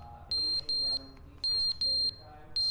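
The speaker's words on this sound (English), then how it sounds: "Smoke alarm." Smoke alarm emitting repeated shrill electronic beeps in pairs and bursts, loud and close, with faint background voices underneath.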